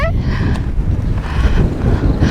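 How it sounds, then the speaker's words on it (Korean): Cold sea wind gusting across a seaside auto campsite in Pohang, a steady broadband rush with rumbling buffeting on the microphone, loud and close throughout, with a brief voice at the start. "아 바람 차다"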